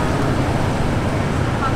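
Steady street traffic in Saigon drifts up to a fifth-floor apartment window, a continuous broadband roar of passing vehicles heard from a distance without letting up.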